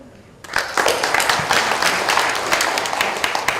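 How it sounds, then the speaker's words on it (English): Audience applause for a panelist at a public health conference panel discussion, dense steady clapping from many hands that starts abruptly and holds loud and even throughout, with no voices over it. "It's a big applause for her."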